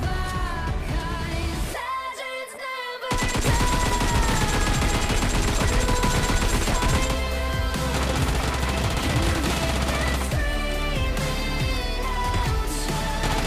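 Automatic AKM rifle fire in the mobile battle-royale game PUBG Mobile Lite, loud close-range bursts crackling almost continuously after a brief quiet gap near the start.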